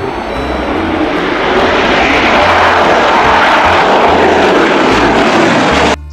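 A toy fighter jet gives off a loud, sustained roaring engine noise, steady and close for several seconds before stopping abruptly.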